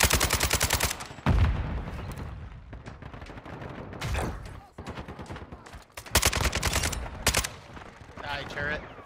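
Rapid automatic turret gunfire in a first-person shooter video game, loud repeated bursts of shots with short pauses between them, with someone shouting over the firing.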